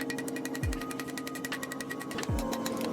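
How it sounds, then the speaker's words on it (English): Rapid, evenly spaced blows of a cross peen hammer on a hot railroad spike being forged into a dragon door knocker wing, a steady ringing metallic hammering close up, with two low descending thuds standing out. "I use the cross peen hammer, and I always have it to where the line is pointed outwards"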